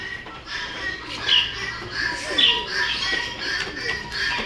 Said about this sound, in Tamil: இது பார்த்தீங்கன்னா ரிங் நெக் லவ் பேர்டு